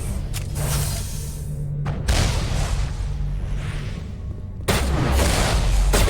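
Heavy gunfire and booming blasts rumble through a Mass Effect game battle, with a steady loud roar broken by sharper bursts near the start and toward the end.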